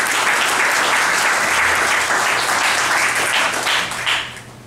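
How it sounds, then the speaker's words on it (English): Audience applause at a high school poetry contest winners event, a loud, dense, sustained wash of clapping that tapers off near the end. "If we give a round of applause for everyone that's shown up."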